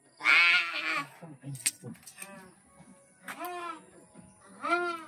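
A goat bleats several times in a row at a rural market, its wavering cries loud and close, with jangling and handling noises in between and a person talking nearby.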